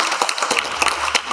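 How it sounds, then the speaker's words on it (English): Spectators at a season finale event applaud in a brief, busy patter of many hands. The clapping is fairly close and steady, with no voices over it. "just another round of applause."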